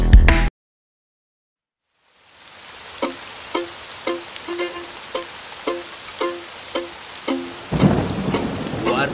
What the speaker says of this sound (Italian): Guardate quanta pioggia!